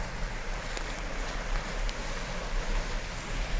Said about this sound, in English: So now here's the spillway for Kaercher Creek Dam.